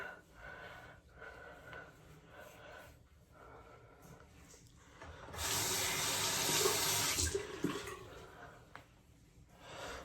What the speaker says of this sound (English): I'm just wetting my fingers and putting water on my hand